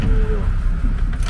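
Low, steady road rumble from inside a Volkswagen LT van moving on a German road, with engine drone and tyre noise close and constant, and a brief faint whine near the start.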